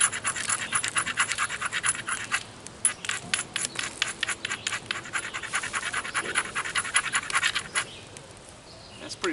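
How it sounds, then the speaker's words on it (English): An obsidian flake's platform edge is ground during flintknapping, giving rapid, rhythmic scratchy strokes that rasp close and clear, easing off near the end, with no voices. "I'm going to look for a good platform. I see a low one right there. I don't know if you can see that, but I'm going to take that one. So I'm going to grind it."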